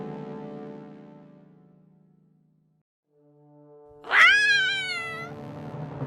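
A cat in a fairy tale lets out a loud, rising yowl and screech that swells suddenly after a lull in lower, tonal background sounds, ringing for over a second with no speech.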